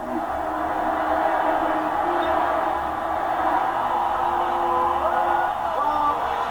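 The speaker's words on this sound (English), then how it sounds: "The crowd started cheering." A basketball arena crowd in Portland roars and cheers for Larry Bird, a sustained, dense wall of voices with whoops and yells rising over it, continuous throughout.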